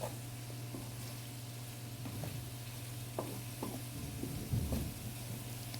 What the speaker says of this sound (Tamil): எறா சேர்த்துட்டு நல்லா அந்த வெங்காயத்தோடையே நல்லா கொஞ்சம் வதக்கி விடுங்க